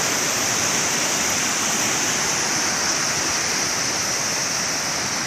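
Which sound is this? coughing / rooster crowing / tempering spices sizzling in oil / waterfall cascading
waterfall cascading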